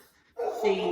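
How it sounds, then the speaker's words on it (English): A pet dog barks in the background indoors, one short bark that cuts in sharply after a near-silent pause and is moderately loud. "you might be able to hear our dog in the background"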